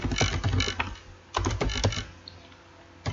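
Rapid keystrokes on a computer keyboard while Python code is typed into a shell, with two close bursts of clicking separated by a short pause and a final tap, heard alone without speech.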